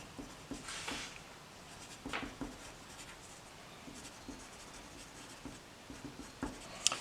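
Marker or chalk writing on a board during an Algebra 2 lesson, a steady run of scratchy strokes and taps over about seven seconds, moderately close and alone without talk.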